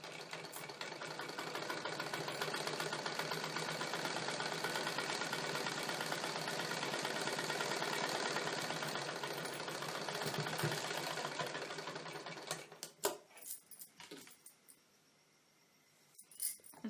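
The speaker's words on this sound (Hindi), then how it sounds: "इस भाग को भी इस तरह से मोड़कर हम एक बार सिलाई कर लेंगे।" A sewing machine stitches a blouse neck in a long, steady mechanical whir that runs for about twelve seconds, then gives way to scattered clicks and fabric handling noises.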